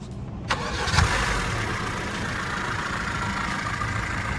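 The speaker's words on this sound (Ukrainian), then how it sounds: "наш Жигуль заводиться з кнопочки" A VAZ 2106 Zhiguli car is started by push button; the engine cranks and catches within the first second, then settles into a loud, steady close idle.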